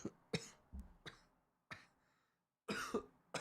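Several sharp coughs, close and loud, separated by short pauses, with a harsher burst of coughing near the end.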